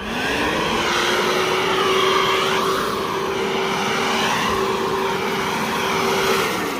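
A Makita 18V X2 Gen 2 blower vac/mulcher runs steadily at throttle, a loud, continuous whooshing whine that holds one even pitch throughout with no voices.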